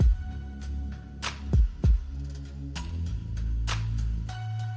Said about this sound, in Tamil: இப்போ மறுபடியும் 40 செகண்டுக்கு நான் அரைக்கிறேன்.